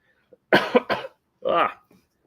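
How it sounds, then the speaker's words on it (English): Several harsh coughs close up, a quick burst of two or three followed by one more after a short pause, in an otherwise quiet space. "This lousy cough."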